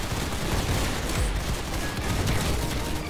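Dense, continuous gunfire from a shotgun in the online shooter game Arsenal, loud and steady throughout with overlapping blasts and no pauses.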